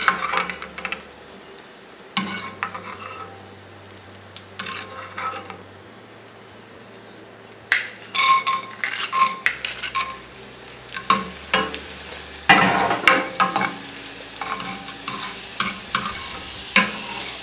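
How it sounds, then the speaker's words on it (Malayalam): Raisins fry in ghee in a pan for Kerala-style Mughal chicken biryani. A low sizzle runs throughout, broken by irregular spoon scrapes and metallic clinks against the pan, with no voices. "ഫ്രൈ ചെയ്ത് മാറ്റിയിട്ട് നമുക്ക് കിസ്മിസ് ഫ്രൈ ചെയ്യണം"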